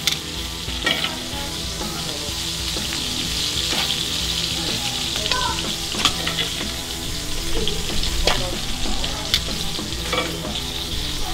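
Shrimp hiss loudly as they go into a hot frying pan with bacon drippings, a dense, steady sizzle with scattered crackles and stirring scrapes, heard up close with no talking.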